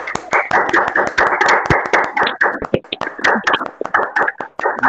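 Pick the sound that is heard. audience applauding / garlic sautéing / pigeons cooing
audience applauding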